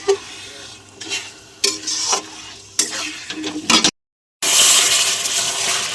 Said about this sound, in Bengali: তো চিকেনটা ভালো করে আমরা নেড়ে নেব, একটু কষিয়ে নেব ভালো করে।